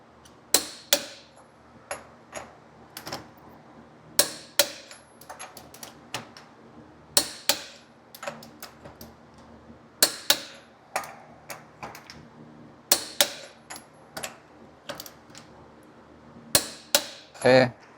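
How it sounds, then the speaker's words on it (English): A torque wrench tightens the wheel lug nuts on a Ford Raptor to 150 foot-pounds in a star pattern, producing a series of sharp, irregular clicks and knocks spread over the whole stretch, fairly close and without speech. "we can go ahead and torque to the 150 foot-pounds of torque. Again, I'll do the tightening in a star pattern."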